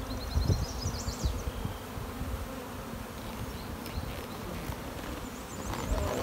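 A dense, steady swarm of honeybees buzzes close by during an open hive inspection that includes queen cells and drones. The hum continues unbroken for the whole clip with no talking.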